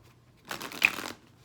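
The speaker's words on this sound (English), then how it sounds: "see how the shuffling is messy?" Tarot cards being shuffled by hand, a close, loose riffling burst of papery flicks lasting about half a second with one sharper snap in the middle, alone in a quiet room.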